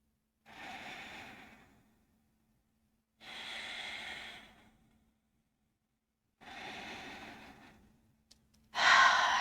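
Slow, audible breaths during yoga boat pose: three long, soft exhalations spaced evenly a few seconds apart, then a sharper louder breath at the end, close and quiet in a still room.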